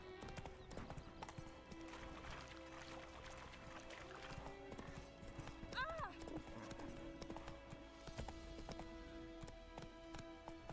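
Roach the horse trots in The Witcher 3, her hooves clip-clopping steadily at a moderate distance with a short neigh partway through, while a voice talks over the game audio.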